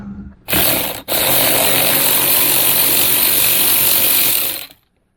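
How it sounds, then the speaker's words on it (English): Two 10mm bolts being worked loose with a ratchet while fitting an OEM-style dashcam in a car, giving a loud, steady mechanical whir with a short break near the start and no talking. "you have two 10mm bolts there, and we're going to remove those"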